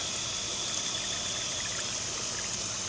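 Water from a pump trickles down a backyard garden waterfall, a steady, even splashing and babbling stream heard close up with no voices.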